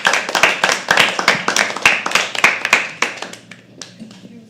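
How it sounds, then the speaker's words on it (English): An audience at a live poetry open mic night claps steadily and loudly in a dense burst of applause. The clapping thins out and fades over the last second or so. "Keep clapping till she comes on stage."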